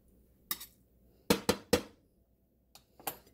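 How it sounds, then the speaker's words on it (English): A metal spoon knocks against a pan and plate while scooping scrambled eggs, making five or six sharp separate clinks in uneven bursts, near and clear against quiet. "all I got to do is spoon some eggs out of here"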